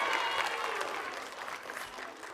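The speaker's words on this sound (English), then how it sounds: "Mikey, let's give them a round of applause." Brisk audience applause at a middle school assembly, a dense wash of clapping from a crowd of students that holds steady and then fades slightly toward the end.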